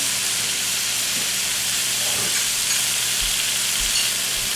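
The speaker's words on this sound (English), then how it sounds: "you're gonna brown your meat" Ground beef with onions, Worcestershire sauce, salt and pepper browns in a pan, giving a steady, close sizzling hiss with occasional soft low bumps from stirring.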